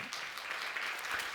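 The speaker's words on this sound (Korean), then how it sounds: "우리 뜨거운 박수 한번 부탁드리겠습니다" Church congregation clapping during a Sunday service, a soft, steady wash of many hands heard at a distance and at low level, with no talking over it.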